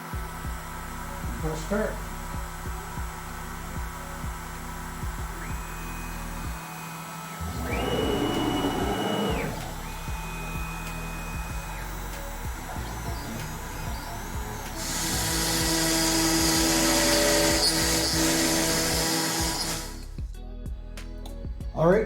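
A CNC router spins up to carve hobby paint shelf and shelf platform parts, a steady whine with short rising tones and a louder broadband rush partway through, running under brief talk.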